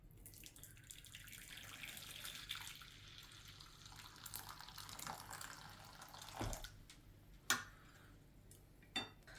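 Hot water is poured from a glass onto instant coffee powder for tiramisu, a quiet continuous trickling pour followed by a couple of sharp clinks.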